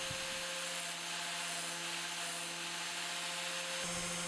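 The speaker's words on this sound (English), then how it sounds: "the grinding disc will grind down all the teeth evenly, improving the sharpening process" A diamond grinding disc sharpens the teeth of a saw blade on a sharpening jig, giving a steady, continuous high whine with a faint hum underneath, close and unbroken throughout.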